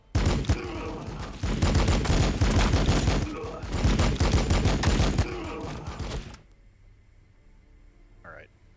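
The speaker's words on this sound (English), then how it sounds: "We've got the assault cannon." Assault cannon in a Warhammer 40,000 video game battle, Blood Angels against T'au, firing a loud, sustained rapid burst of shots for about six seconds before cutting off abruptly into near silence.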